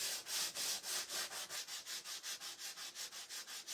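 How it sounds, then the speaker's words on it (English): Quick rhythmic back-and-forth sanding strokes on a small Dollar Tree mini metal lantern, about sixteen even scrapes, close and fairly soft with no talking. "You can sand it down as much or as little as you want."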